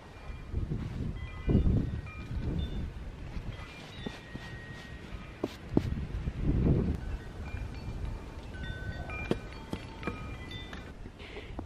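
Gusty wind blows outdoors over snow, rising and falling in soft broadband rushes with occasional faint rustles and ticks, no talking.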